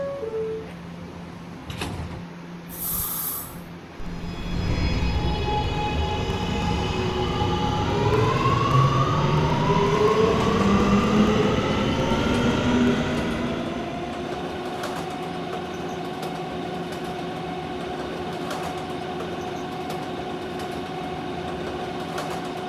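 A simulated R211A subway train runs on the R line in a Roblox game, motors whining upward as it pulls away and then settling into a steady rolling hum and rattle, with no talking.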